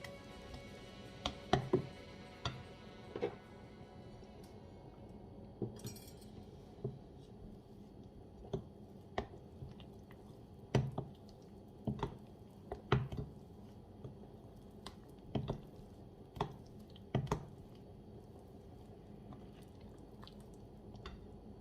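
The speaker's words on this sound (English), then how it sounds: "I'm going to mix, combine it together, make sure everything is well incorporated" Plantain moi moi batter being stirred and combined by hand in a bowl, giving soft wet squishes and occasional sharp clicks of a utensil against the bowl at an irregular pace, close and fairly quiet with no talking.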